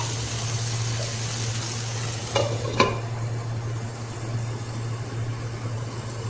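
Peas being stirred into simmering matar paneer in a pan, a steady soft sizzle with a couple of sharper scraping clinks of the spoon midway, no voices.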